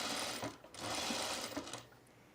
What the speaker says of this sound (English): I'm just edge stitching my placket